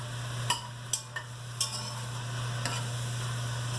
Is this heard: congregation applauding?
no